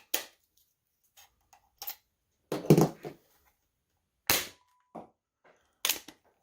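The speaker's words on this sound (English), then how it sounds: "Let's shoot some Adventure Force darts through it." Five or six sharp, separate pops from a Nerf Rocket Pistol firing Adventure Force half darts, each a crisp spring-driven snap spaced about a second apart, with brief mechanical clicks between shots as the blaster is reloaded and primed.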